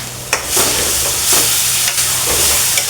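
Onion fries for palak paneer, giving a loud, steady sizzle with a few spoon scrapes and stirring clanks close by. No one speaks.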